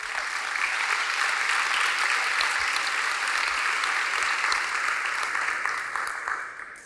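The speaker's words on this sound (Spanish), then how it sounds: "Si lo cree, dele palmas al Señor" A church congregation breaks into sustained applause, a dense wash of clapping that holds steady for several seconds before thinning out near the end.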